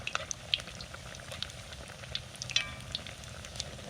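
Apple fritters bubble and crackle steadily in hot frying oil, a continuous low seething with scattered small pops and brief sharper crackles, fairly quiet and close, with no voices.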